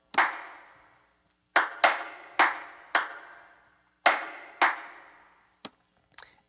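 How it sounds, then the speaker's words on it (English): A sampled clap loop for beat production plays alone: sharp, dry claps in a syncopated pattern, each with a short decaying tail, ending with a couple of lighter hits. "a clap loop that's from my pack as well."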